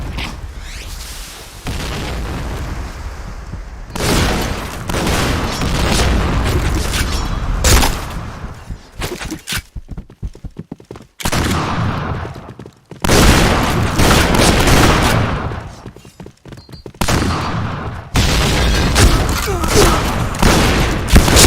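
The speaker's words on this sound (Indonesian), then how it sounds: "Fire in the hole!" Grenade explosions and heavy gunfire from the Point Blank video game keep booming and rattling in loud, near bursts. The bursts come in long dense stretches broken by short gaps, with shouting mixed in.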